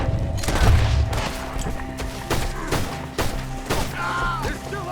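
Gunfire from Red Dead Redemption 2 rings out in a shootout, several loud close shots with echoing booms spaced irregularly across five seconds, with faint shouting mixed in.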